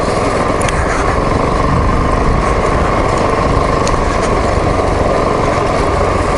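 A dual sport motorcycle engine droning steadily while riding on a dirt trail, loud, close and constant, with wind and rough road noise and no talk.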